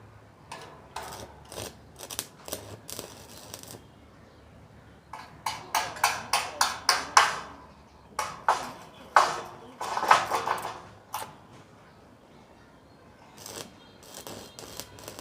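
Tack welding of nuts on a sound-proof oxygen plant canopy box in a workshop; a run of short, sharp crackling bursts in uneven clusters, some louder than others, with quiet gaps between.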